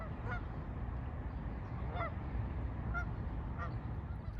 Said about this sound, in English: There's some geese. Do you hear them?